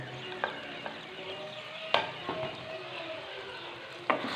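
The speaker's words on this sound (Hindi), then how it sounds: "इसको अच्छे से करें मिक्स करेंगे और इसको फ्राई कर लेंगे।" Slit green chillies fry with turmeric, dried coriander and salt in a pan, a steady close sizzle with a few sharp scraping taps of a spoon as the mixture is stirred.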